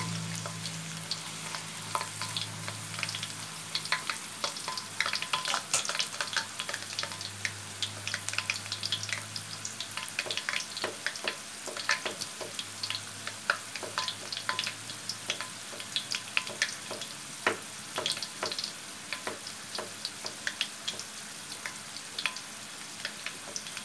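Durian pieces frying in hot oil, a steady dense crackle and sizzle running throughout, with occasional stirring clinks and a low hum underneath, no voices.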